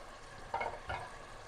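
Fried chicken being stirred into a tomato curry in a pan, two short, soft scraping strokes over a faint, low sizzle, close by and quiet.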